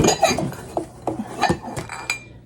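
Ceramic soup bowls clink together in a few separate light knocks, close by, with soft handling sounds between them.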